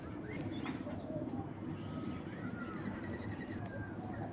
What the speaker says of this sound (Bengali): এগুলো পাট্টা কবুতর